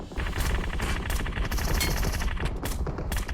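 Rapid automatic gunfire from the mobile battle royale game PUBG Mobile, dense overlapping bursts of shots at steady loud level across the whole stretch, with no talk over it.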